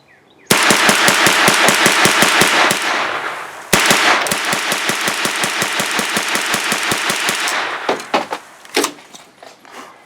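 A Kalashnikov-USA KR9 fires Winchester white box 115 grain rounds in two long, rapid strings of loud, sharp shots at close range. A few scattered clanks and handling noises follow.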